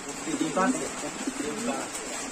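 Sirazi and Bombai breed pigeons coo softly in a few low, throaty phrases, close by, with a voice talking over them.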